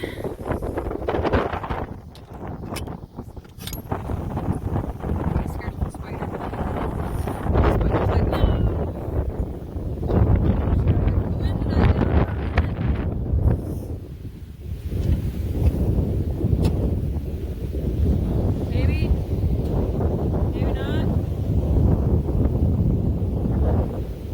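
Strong wind gusting around an Aliner camper, a heavy roaring buffet against the microphone that rises and falls in gusts throughout, with rustling and occasional knocks and no speech.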